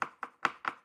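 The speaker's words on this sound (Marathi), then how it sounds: "अशा पद्धतीने बारीक चॉप करून घ्यायची शिमला।" Yellow capsicum being finely chopped with a knife on a board, five quick, evenly spaced close cuts, crisp and fairly quiet with no talking.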